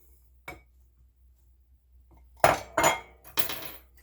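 Sugar goes into a stand mixer bowl in a home kitchen, heard as a few sharp clinks and rattling pours against the bowl, close and crisp, with near silence between them.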